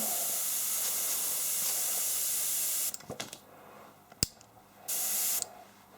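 Steady airbrush hiss spraying acrylic paint continuously for about three seconds, then stops; a few short bursts and a sharp click follow before the spray resumes near the end.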